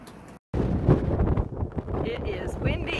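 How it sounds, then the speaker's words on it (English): Cold wind gusts outdoors around a 1974 Silver Streak travel trailer, a rough buffeting rush against the microphone that drops out briefly, then returns steadily while a person talks over it. "It is windy and cold."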